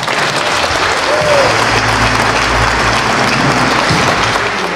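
A congregation at Our Lady of the Valley gives a full, sustained round of applause in honour of the Blessed Virgin Mary, steady and loud throughout, with a low hum beneath.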